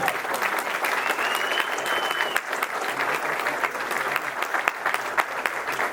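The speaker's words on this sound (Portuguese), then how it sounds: "Uma salva de palmas, pessoal." An audience at a national mayors' forum in São Paulo claps steadily for Governor Tarcísio de Freitas, a dense, sustained wash of applause with sharper claps popping through, close and fairly loud throughout.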